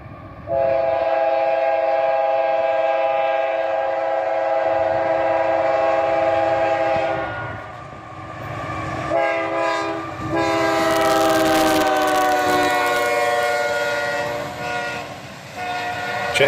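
Hotshot intermodal freight train led by an AC44CW, a flared-radiator SD70MAC and an ES44DC, sounding as a loud, sustained horn blast over steady diesel rumble and wheel noise, with a second, brighter horn sounding partway through.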